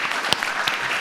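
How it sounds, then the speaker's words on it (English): Audience applause at the launch event of the Caru Programme, a steady wash of many hands clapping throughout with a couple of sharper claps standing out, fairly close and sustained. "will you give them all a round of applause?"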